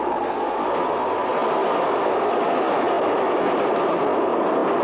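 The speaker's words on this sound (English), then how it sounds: "There's a train coming." A steady, loud rumble of an approaching train as a radio drama sound effect, a continuous dense roar holding at near-constant volume with no voices over it.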